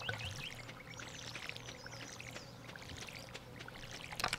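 A watering can pours water onto crops in the Stardew Valley video game, a steady splashing trickle that runs without a break over soft background game music.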